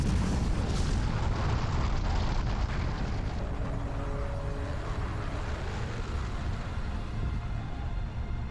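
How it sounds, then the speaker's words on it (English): A continuous deep, roaring rumble of the Krakatoa volcanic eruption explosions, loud and sustained with dense low booming that slowly eases. "the loud explosions coming from Krakatoa were clearly heard 83 miles east"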